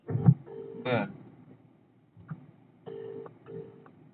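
A telephone call rings through in a few short, steady electronic tones, with pauses between them and voices talking nearby.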